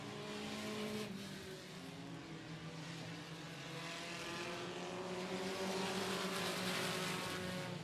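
Race cars roar through laps at 105 Speedway during a regular race night, with a steady, loud, continuous engine drone and layered tones from several cars passing, and no talk.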